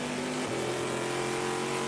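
An aluminum-block, titanium-valve V8 race car engine roars at high revs in a 24-hour endurance race, a dense, sustained engine drone with a slight pitch shift, loud and steady throughout.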